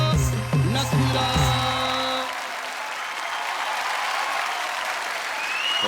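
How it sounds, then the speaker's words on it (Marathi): A few seconds of music give way to a studio audience at a televised village contest show, whose dense, even clapping rolls on and fills the rest of the clip. "वा वा वा जोरदार टाळ्या"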